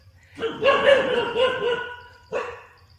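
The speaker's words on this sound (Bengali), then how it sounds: "কুকুরগুলো দেখো কি দেখেছে ওখানে" Dogs barking in a forest, a rapid burst of several close barks followed after a pause by one more short bark, with no talk.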